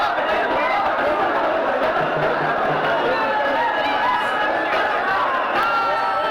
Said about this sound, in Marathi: सीएसएमटी स्टेशनवरती मराठा आंदोलकांची प्रचंड गर्दी झालेली आहे, घोषणाबाजी ते करतात